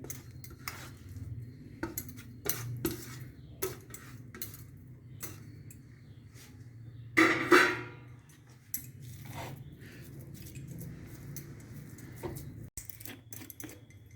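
A spoon works grated potatoes into a smooth semolina mixture in a bowl, making scattered light clicks and scrapes over a low hum, with one louder clattering burst midway and no talk.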